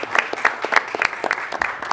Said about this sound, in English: Time for applause now, Mr. Saylor.